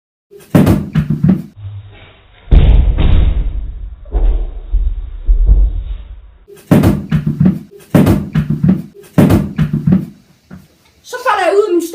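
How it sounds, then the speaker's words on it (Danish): A person tumbles out of a chair during a gaming session, making a heavy thud and a jumble of bumping noises, with excited talk and laughter around it. "Så falder jeg ud af min stol."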